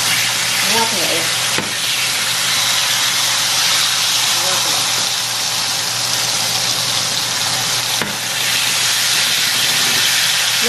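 Shawarma meat frying in a pan, cooked about four minutes per side, gives a loud, continuous hissing sizzle that holds steady throughout, with a couple of brief knocks and no talking.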